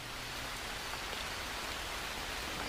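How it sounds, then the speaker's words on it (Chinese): Heavy rainstorm pouring near Maoer Mountain along the Li River, a dense, even hiss of rain falling steadily on surfaces, close and unbroken with no voices. "不出所料，暴雨又一次从猫儿山开始。"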